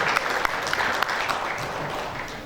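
An audience at the close of a formal event applauds, a dense wash of many hands clapping with a few sharper claps standing out, steady and fairly loud before tapering slightly.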